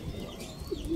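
Pigeons coo softly and flutter nearby as a racing young bird arrives at the loft during derby training, with a steady outdoor background hum and a brief higher call near the end.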